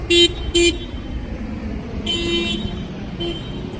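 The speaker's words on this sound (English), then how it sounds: "I thought someone was honking at me" A car horn honks on a city street: two short loud beeps close together, then a longer blast after a pause, amid steady traffic rumble.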